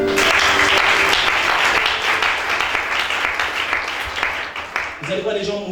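A church congregation applauds in a dense, continuous burst of clapping that carries loudly for several seconds before thinning out, as a voice begins to come through at the end.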